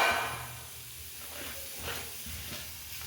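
Onions and green chillies sizzle in hot oil, a steady broadband hiss with faint crackles running throughout at moderate level, close by and without talk.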